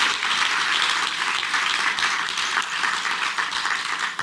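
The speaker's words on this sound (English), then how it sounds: "Let's give them a big round of applause." Outdoor audience at a Division Street transit line event breaks into sustained applause, a dense, steady roar of many hands clapping that holds evenly and fades slightly at the very end.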